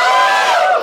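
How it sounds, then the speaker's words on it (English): A comedy club audience at a stand-up show cheers and shouts together, a loud, dense crowd roar lasting under a second. "Same guys are cheering."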